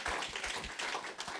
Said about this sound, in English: Yeah, just a clap.